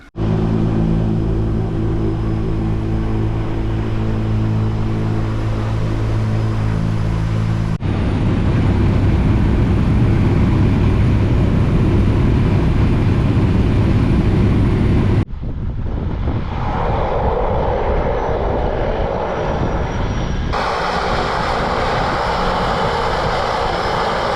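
Float plane engine roaring through takeoff and flight in Alaska, a loud steady droning rumble with a propeller hum that shifts in pitch and intensity across several segments, heard from inside the cabin with no talk.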